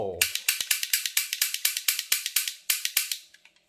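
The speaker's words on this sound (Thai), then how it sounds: "ใส่ด้ามมัน ลองยิงเปล่าๆดู" A cap gun dry-fired after a screw replacement gives a rapid run of about twenty sharp, crisp clicks in a steady rhythm, close and loud, with a faint voice at the very start.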